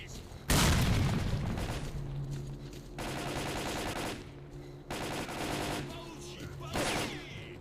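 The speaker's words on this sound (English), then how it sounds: "Oh, grenade." A grenade blast and bursts of automatic gunfire in STALKER: Clear Sky, with a loud, sharp boom followed by repeated rattling volleys that fade between bursts, while a voice briefly speaks.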